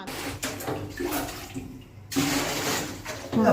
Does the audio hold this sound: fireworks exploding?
no